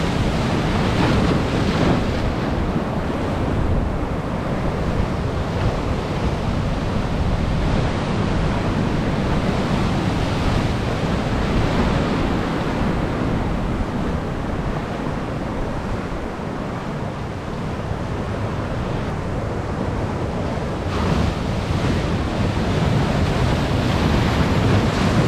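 Ocean surf rolls continuously onto a New Zealand shoreline at a landbased snapper fishing spot. It makes a loud, unbroken roar of breaking waves mixed with gusting wind noise on the microphone, and no one speaks.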